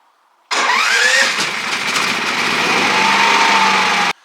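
A petrol generator used for welding power is started up outdoors: a loud close engine catch that settles straight into a steady running roar, then cuts off abruptly.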